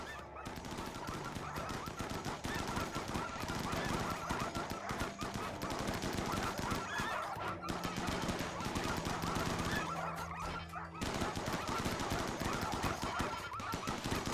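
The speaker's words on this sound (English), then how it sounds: "You just gun them down." Video game gunfire rattles in dense rapid bursts, loud and continuous with a couple of brief pauses, mixed with honking, goose-like squawks.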